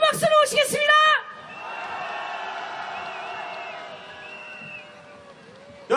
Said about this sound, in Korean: 호주 브리즈번에서 오신 윤지훈님을 큰 박수로 모시겠습니다